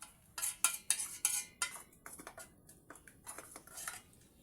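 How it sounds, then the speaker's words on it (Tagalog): Pots and utensils clatter while noodles are cooked in a home kitchen. Bursts of metallic clinks and scrapes come close and fairly loud in irregular clusters, with short pauses between them and no talking. "Ito guys, luto tayo. Simpleng ulam lang to."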